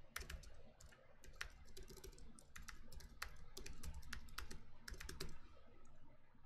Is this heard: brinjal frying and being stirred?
no